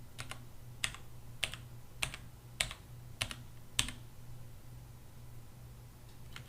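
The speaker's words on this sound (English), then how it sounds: "if I start typing in biology at just a regular typing speed" Keystrokes on a computer keyboard typed at a regular pace while entering a search term, about seven sharp, evenly spaced clicks over a low steady hum, then a couple of faint taps near the end.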